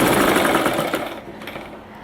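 A sewing machine stitches a sleeve onto a readymade dress, a loud, rapid mechanical whir that runs steadily and then slows and fades near the end.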